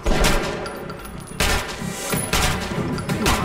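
Gunfire in the Metro Last Light video game: close, loud bursts of shots with heavy booming impacts, firing in several surges across a few seconds without any talk.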